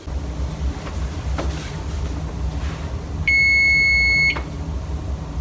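A kitchen timer set for an hour of baking no-knead bread in an oven sounds one sustained, steady electronic beep lasting about a second, clear and close over faint room hum.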